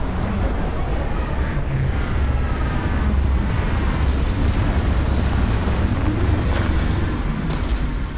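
A spaceship touches down in the video game Starfield, a loud, steady roar of thrusters and engine rumble that swells and holds throughout, with a faint whine rising near the end.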